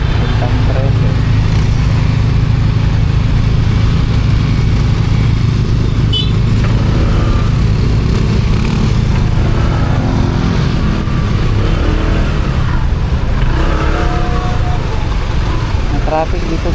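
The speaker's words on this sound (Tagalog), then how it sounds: "Traffic dito guys kasi may stoplight po dyan." Loud, dense road traffic near a stoplight, with motorcycle and car engines idling and revving close by in a continuous roar, and a few faint horn-like tones poking through.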